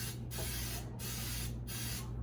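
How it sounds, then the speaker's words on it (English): Food cooking spray hisses from a can onto a heating waffle maker in three short bursts, close and fairly quiet. "I do use a food spray."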